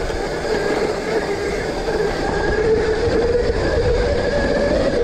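A mini electric motorcycle motor under throttle gives a steady rumbling drone with a rising whine, continuous and fairly loud throughout.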